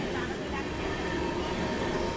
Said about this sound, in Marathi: दुरंतो एक्सप्रेस कोटा राजस्थान